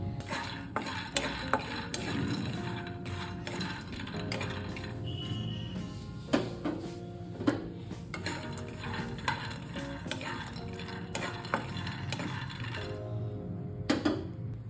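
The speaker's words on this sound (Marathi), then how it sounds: "तर तुम्ही पाहू शकता आपले शेंगदाणे छान असे भाजत आलेले आहेत।" Peanuts are dry-roasted in a pan while being stirred, giving a steady rattling, ticking clatter of nuts and spoon against metal with sharper clinks now and then, close by and with no voices.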